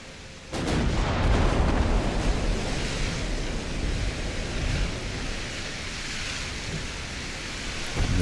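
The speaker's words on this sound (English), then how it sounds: "Nice hit there, destroying the main gun." A naval shell strikes and wrecks a warship's main gun in the Ultimate Admiral: Dreadnoughts naval battle, a heavy boom swelling into a long rumbling roar that lingers and slowly fades.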